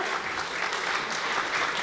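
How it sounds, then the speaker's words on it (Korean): Crowd applauding the winning fighter at a combat sports event, a continuous dense roar of clapping throughout, loud and steady. "승리하신 메탈리 선수께 큰 박수 부탁드리겠습니다"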